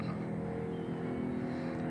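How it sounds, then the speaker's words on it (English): Cars crossing the Old Galley Causeway at night, heard from a distance as a steady low traffic hum with a faint tonal drone, no talking. "here are the cars going across the Old Galley Causeway here at night."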